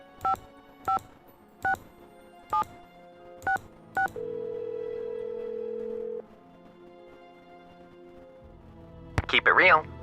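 Telephone keypad tones dial a number in a Nancy Drew mystery game: six short evenly spaced beeps, then a steady held tone, followed by a brief burst of sound near the end.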